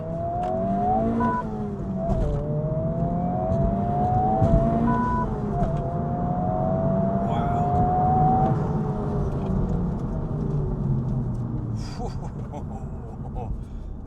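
A Honda Civic Type R accelerating hard, its engine note rising and dropping through several gear shifts, heard from inside the car with a person talking over it.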